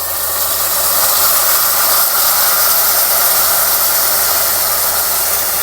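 Water poured onto hot seared meat in a pan for Sudanese karkanji, giving a loud, steady, continuous hiss of steam that holds evenly throughout with no talking.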